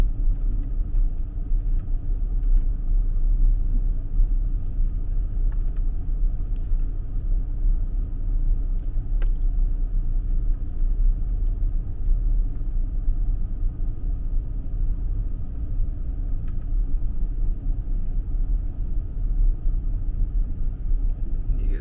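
A van engine rumbles low and steady as it pulls out onto a road, a continuous heavy drone close by with no voices over it.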